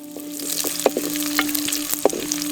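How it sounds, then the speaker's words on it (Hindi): Cashews and raisins fry in ghee in a pan, a close, steady sizzle punctuated by sharp scraping clicks of a spoon stirring them through the hot fat. "इसके बाद मुनक्का को भी डालकर अच्छे से भून लें।"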